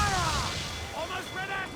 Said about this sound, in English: Ready to fire!